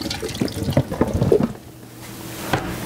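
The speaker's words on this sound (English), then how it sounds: "I'm going to get a big pot now and put those in it. Just pour these in." Palm dates pour into a big cooking pot in a home kitchen, giving a run of close, irregular knocks and rattles that fade out, then one more thump.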